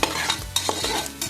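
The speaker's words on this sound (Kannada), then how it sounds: "ನೆಕ್ಸ್ಟು ಕಡಲೆಕಾಳು ಕೂಡ ಒಗ್ಗರಣೆಯಲ್ಲಿ ಸ್ವಲ್ಪ ಬಾಡಿಸ್ಕೋಬೇಕು." Chickpeas stirred in a hot pan of oil tempering give a steady sizzle and frying crackle, with several sharp spoon scrapes against the pan, close and fairly loud, with no voices.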